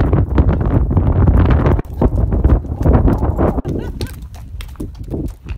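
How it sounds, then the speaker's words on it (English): Horse hooves gallop on an outdoor ride, a rapid, loud, close series of thudding strikes buffeted by heavy wind noise on the microphone, with a brief voice partway through. "You will see me on our horse galloping."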